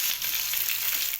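Browned onion with ginger-garlic paste and chopped tomato frying in a pan for chicken curry, producing a loud, continuous hiss and sizzle heard close up with no voices.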